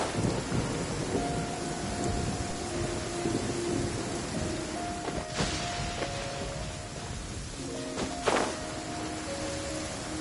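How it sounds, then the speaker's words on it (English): Thunder cracks from a storm barrier in the PS5 video game Genshin Impact. A steady rain-like wash runs under two sharp, loud thunder bursts partway through and near the end, with soft tonal music in the background. "I don't need the lyre to break through this kind of storm barrier."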